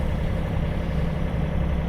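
A sailboat motors under engine power in calm weather, its inboard engine giving a steady, low rumbling drone that stays constant and close without a break.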